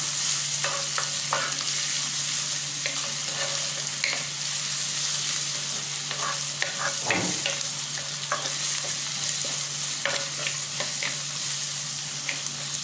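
Onions fry steadily in a pan under a constant close sizzle, while a utensil stirs them with scattered scraping clicks throughout and no talk.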